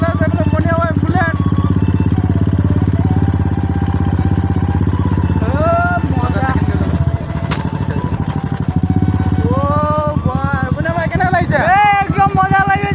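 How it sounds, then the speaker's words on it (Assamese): A Royal Enfield Bullet motorcycle's engine thumps steadily and loudly up close while being ridden, with voices talking and laughing over the continuous throb. "বাইক চলাবলৈ গৈ আছো আমি"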